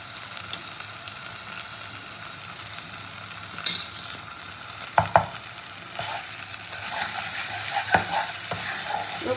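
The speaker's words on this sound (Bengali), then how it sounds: "খুব ভালো করে মশলাটাকে কষিয়ে নিতে হবে একটু সময় নিয়ে।" Ginger-garlic paste and a paste of green and dried chillies stir-fried in a pan for a bhola fish kosha: a steady, close sizzle with a few sharp scraping clinks of the spatula, and no voices.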